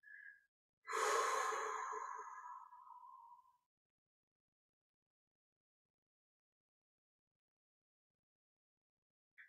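A slow, audible exhale during a Kriya Yoga breathing exercise: one long, close breath out that fades gradually over a few seconds, alone in otherwise silent surroundings, with a brief soft tone at the start and end.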